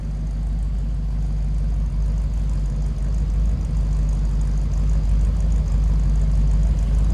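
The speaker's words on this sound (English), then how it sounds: "Old school flatty sound." A 1948 Ford Super Deluxe two-door sedan's flathead engine idles steadily, a loud, close, even low rumble with a constant hum and no voices.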